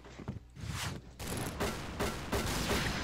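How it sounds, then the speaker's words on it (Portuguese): Bursts of video game gunfire crackle as a player takes hits, several rapid volleys separated by brief gaps, fairly quiet overall. "É o cara tomando tiro."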